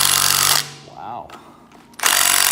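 An impact gun hammers at seized wheel fasteners on a Chevy spindle, loud rattling bursts at the start and end with a brief quieter gap between.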